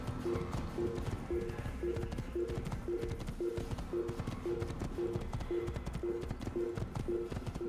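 A horse gallops in the Assassin's Creed video game, its hooves beating out a fast, even clip-clop rhythm under game music, close and continuous throughout.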